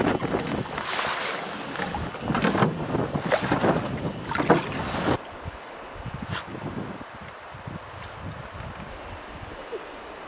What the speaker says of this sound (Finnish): Pikku tuuli täällä on.